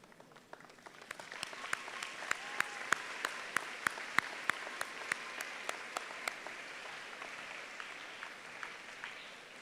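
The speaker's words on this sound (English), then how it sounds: "give them a round of applause." A room of people at a high school graduation applauding steadily, with a few louder, sharper individual claps standing out above the dense patter before it gradually thins.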